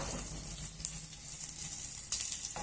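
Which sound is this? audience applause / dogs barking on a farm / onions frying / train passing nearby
onions frying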